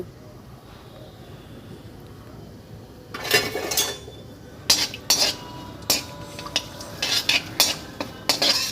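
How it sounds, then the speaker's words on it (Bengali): Bay leaf, dried chilli and whole cumin are stirred in hot oil in a wok. A faint sizzle opens, then loud, irregular metallic scrapes and clanks of the spoon against the wok take over. "তেলের মধ্যে দেব হলো তেজপাতা শুকনো লঙ্কা আর জিরে গোটা জিরে দিয়ে একটু নেড়ে নেব"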